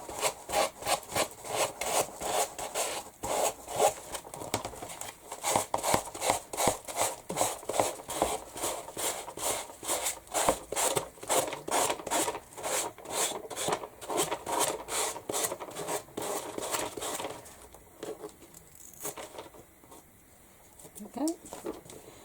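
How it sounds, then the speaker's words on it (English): A sanding block rubs across a mixed media canvas in quick, rhythmic back-and-forth strokes, a dry scratchy rasp repeating steadily for most of the clip before easing off near the end. "Just going to sand off this."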